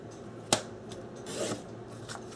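Scissors snip through paper with one sharp cut near the start, followed by softer rasping slides of the blades, set against quiet room noise while trimming papers for a scrapbook journal.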